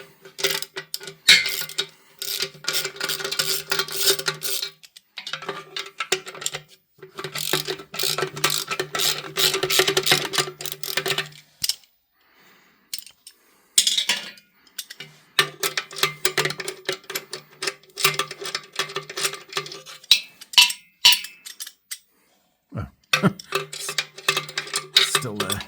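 Exhaust bolts come off a Jaguar XJS V12 set on an engine stand, with bursts of quick ratchet clicking that start and stop repeatedly, separated by short pauses.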